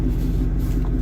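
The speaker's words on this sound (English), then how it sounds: "That engine is idling nicely, very nicely." A supercharged Jaguar engine idles with a steady, smooth low rumble, heard close and even for about a second with no talk.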